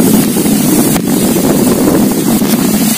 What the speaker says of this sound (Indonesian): Angin kencang,